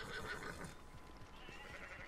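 A horse whinnies in Red Dead Redemption 2, a loud rising neigh that then gives way to brisk clip-clopping hooves carrying on steadily to the end.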